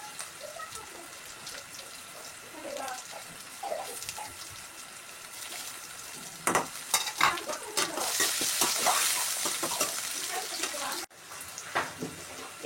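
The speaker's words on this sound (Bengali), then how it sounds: "এখন এটা খুব ভালোভাবে ভেজে নেব।" Dried fish curry with eggplant and chili stirred and fried in a pan, steady sizzling with scraping strokes of a spoon that grow louder and busier toward the end, no talking.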